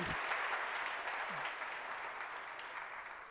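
Audience applause at a Jain monk's daily religious discourse in Shirpur, a dense, steady clapping that fills the hall from start to finish without letting up.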